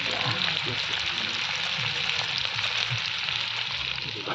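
Oil sizzling steadily in a wok (kerahi) over a lit fire, a continuous bright hiss with faint low clatter underneath, close and moderately loud throughout.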